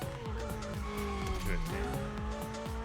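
A car drifts in the racing game The Crew Motorfest, its engine droning while tires squeal in sliding, wavering tones, with a voice talking over the game sound.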